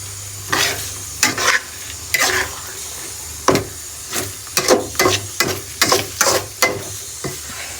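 Egg bhurji stirred in a pan over high heat, a spatula scraping in repeated bursts over a steady sizzle of frying, close and fairly loud with no talking.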